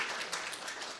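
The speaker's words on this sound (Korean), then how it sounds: "예, 박수로 환영해 주시면 좋겠습니다." A short burst of applause from a church congregation during a Sunday afternoon service, a soft, steady patter of many hands clapping at moderate distance.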